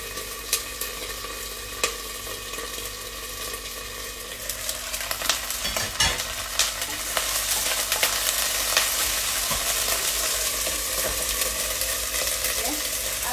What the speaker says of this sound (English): You can see the water is actually evaporating from the ginger garlic paste, and it's going to start calming down a bit, and it stops spluttering